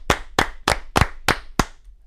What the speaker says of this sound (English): Let's give one more round of applause to Scott McBrien.